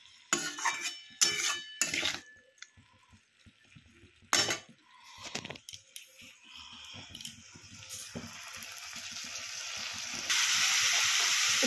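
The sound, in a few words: stir-frying broccoli masala in a pan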